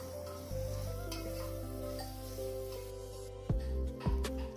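Spices and dang badi frying in a pulao pan while being stirred, a soft sizzle with a low steady hum and a few sharp scrapes near the end, fairly quiet, no talking.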